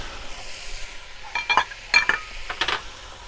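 Potatoes, carrots and celery added to a pot for beef stew, with quiet sizzling and a few clinks and stirring scrapes of a utensil against the pot, fairly close.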